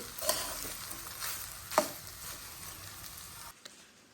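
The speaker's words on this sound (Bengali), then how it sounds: "দেখতেই তো পাইছেন ভাত ভাজা বসাইছি ভাত ভাজাটা প্রায় হয়েই গেছে" Rice frying with egg in a pan, a soft steady sizzle with a couple of sharp scrapes and clinks from stirring, quiet and close, cutting off near the end.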